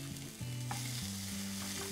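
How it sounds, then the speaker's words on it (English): Chopped onion frying in a nice hot, wide pan over a high flame gives a soft, steady sizzle, heard faintly and evenly under some humming tones with no talking. "Now I'm going to add in some chopped onion"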